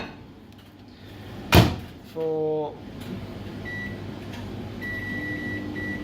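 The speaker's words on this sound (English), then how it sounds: "we'll pop this in the microwave" A microwave oven door shuts with a sharp thunk, followed by a short hum and quiet beeps as the oven starts, over steady room noise, with a brief spoken word.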